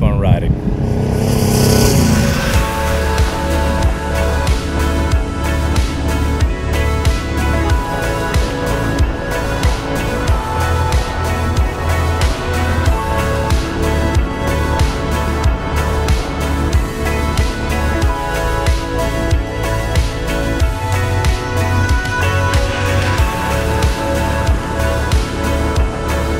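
Motorcycle cruising along a highway in Chile, with a steady loud engine drone and rushing wind heard from the rider's position, sustained throughout without pause.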